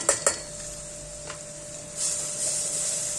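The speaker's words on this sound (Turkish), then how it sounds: "Tereyağı eriyene kadar karıştırıyorum." Sunflower oil and butter are stirred in a pot until the butter melts. Two sharp spoon knocks against the pot open the sound, followed by soft scraping and then a rising, steady hiss.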